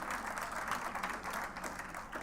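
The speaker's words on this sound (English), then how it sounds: "So give yourself a round of applause," Audience at a charity gala dinner applauding, a dense, steady patter of many hands clapping at a fairly low level for about two seconds.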